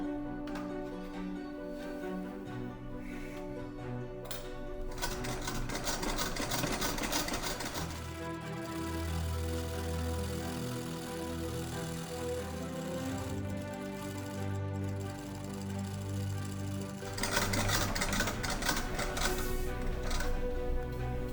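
Sewing machine stitching the back seams of two skirts, one black velvet, running in several sustained bursts with brief pauses between, steady mechanical whir at close range with no talk.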